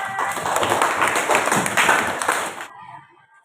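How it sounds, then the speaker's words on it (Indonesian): A classroom full of students claps together in a dense, lively burst that carries on steadily and then stops abruptly, leaving near silence. "Tepuk tangan"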